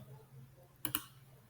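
Two quick, crisp computer mouse clicks close together, a right-click in a file folder on a computer, standing out briefly against a quiet room hum.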